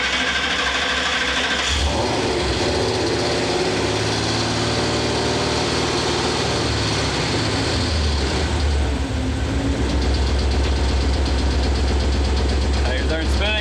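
A Ford Mustang engine runs loudly close by with a rough, uneven idle and shifting revs, and voices are audible beneath the engine noise.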